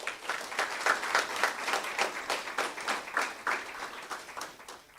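Applause at a sports awards ceremony for a coach receiving an award: an audience claps in a steady, fairly faint patter of many hands for several seconds, with no voices.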